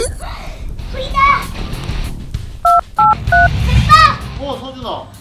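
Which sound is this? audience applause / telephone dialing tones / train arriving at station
telephone dialing tones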